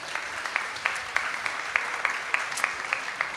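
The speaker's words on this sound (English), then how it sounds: "let's give a big round of applause to them" Audience applause for the cooks at a temple Balaram Jayanti celebration, steady rhythmic clapping in unison heard at moderate loudness from a gathered crowd.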